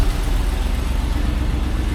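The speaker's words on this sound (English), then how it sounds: "The engine sounds quite sweet though." A 1989 Range Rover Vogue SE engine idles steadily nearby, giving a low, even rumble with a smooth, unbroken rhythm and no voices over it.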